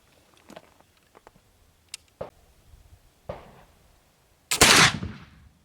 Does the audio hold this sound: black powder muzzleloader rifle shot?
yes